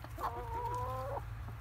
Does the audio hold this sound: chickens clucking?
yes